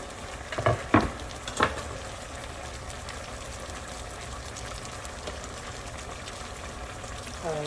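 Shrimp frying in a pan for a shrimp and squash curry, a steady close sizzle with a few brief clatters of stirring near the start.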